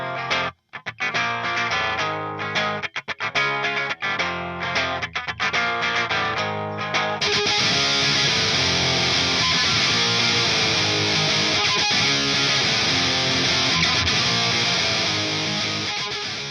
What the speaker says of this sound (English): When this switch is in the up position, the hot rails are coil split to get a single coil sound